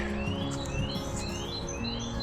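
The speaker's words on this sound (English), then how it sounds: "you get to hear the birds and stuff" Birds sing and chirp in a village churchyard in Checkley in mid April, with repeated rising tweets from several birds over a soft, steady outdoor background.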